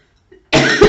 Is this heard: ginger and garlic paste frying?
no